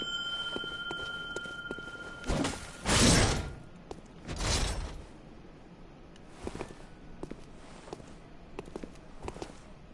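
A small bell rings in a video game, giving a sustained bright tone for about two seconds. Loud whooshing thuds and scattered footstep-like clicks follow.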